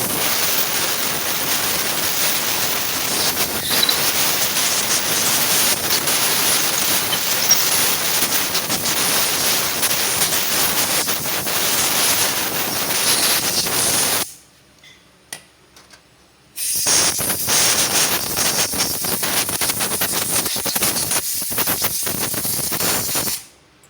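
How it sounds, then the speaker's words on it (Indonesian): Compressed air from a compressor is blown over a Honda Vario 125/150 motorcycle throttle body during cleaning. A loud, steady, close hiss stops briefly in the middle and then resumes with the same force. No one speaks. "setelah itu kita semprot menggunakan udara bertekanan atau kompresor"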